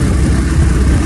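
Scooter engine while riding through city streets, a loud, constant low rumble and drone without pauses, no speech.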